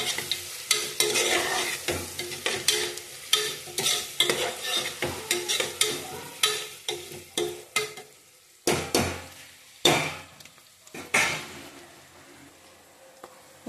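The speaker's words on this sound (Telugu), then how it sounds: "ఇదిగో అలా వేగుతుందండి ఆనియన్స్ ఇవన్నీ." Onions fry in oil for a mutton curry as a spatula stirs them repeatedly, each stroke bringing a burst of sizzling and metal scraping against the pan in uneven, close rhythm.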